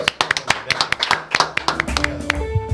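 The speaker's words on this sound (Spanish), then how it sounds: "Ezequiel Coppel, este aplauso es para vos" A small group clapping to welcome an arriving guest on a talk show, quick uneven claps up close, with voices and other sounds joining in toward the end.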